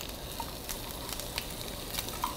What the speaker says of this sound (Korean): 초당 옥수수를 살짝 노릇하게 볶아줄게요.